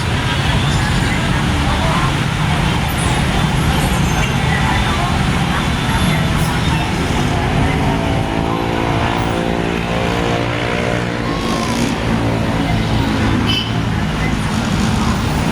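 Dense road traffic streams through a busy intersection on the way to Alabang, a loud continuous roar of cars and buses with engines revving and passing up close, and someone talks intermittently over it.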